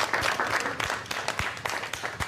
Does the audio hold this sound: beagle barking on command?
no